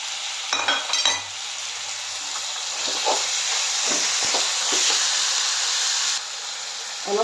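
Chicken pieces and spinach frying in a pan with a little salt, a steady loud sizzle and hiss with occasional stirring scrapes, close up and without talk.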